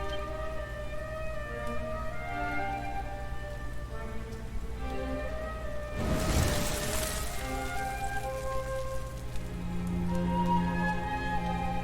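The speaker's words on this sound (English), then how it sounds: "Looks like the rain's dying down." Steady rain pours down in the video game Dragon Quest XI S, a continuous wash of falling drops under a layered musical score, with a brief louder burst midway.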